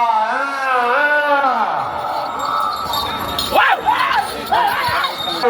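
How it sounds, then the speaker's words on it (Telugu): Crowd at an Ongole bull show competition in Kalluru: a drawn-out voice calls first, then several loud, wavering shouts and whoops from the onlookers rise over a noisy outdoor background. "కేకలు ఒక్కసారిగా వినండి మరి."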